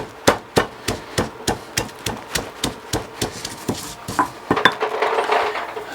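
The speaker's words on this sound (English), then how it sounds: "I'm going to mash garlic up in here also" Garlic cloves mashed in a kitchen for Mexican beef stew, sounding as a steady series of sharp, close pounding knocks, roughly two per second, continuing evenly for about six seconds with no talking.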